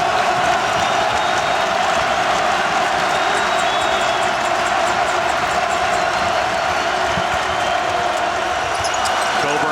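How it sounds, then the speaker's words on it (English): Arena crowd roaring and cheering during a Big Ten men's college basketball game, a loud continuous wall of noise with whoops rising above it. "Here comes the crowd again."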